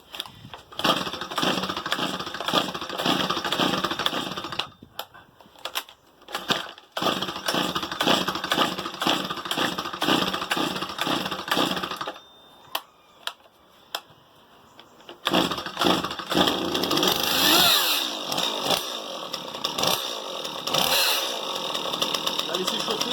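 A Stihl MS 170 chainsaw engine starts and warms up close by, its two-stroke buzz revving up and dropping in bursts with short pauses, then revving hard again near the end.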